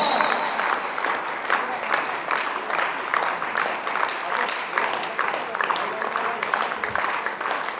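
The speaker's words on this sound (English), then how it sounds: "Clapping fast." Audience clapping fast at a Kyokushindo karate belt ceremony in Pakistan, a steady dense patter of many hands sustained throughout at moderate distance, with some voices mixed in underneath.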